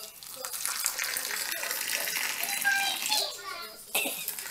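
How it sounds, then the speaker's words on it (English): Tea pours in a soft, continuous trickle with faint splashing and a brief clink near the end, quiet and close, while a voice and other chatter carry over it. "I am pouring tea as a nun."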